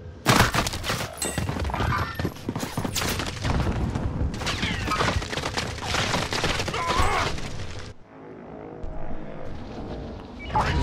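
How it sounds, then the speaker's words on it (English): Dense, rapid gunfire and bursts of automatic fire in a Call of Duty match, loud and continuous for several seconds before a brief drop, then fainter shots return. "I'm taking fire."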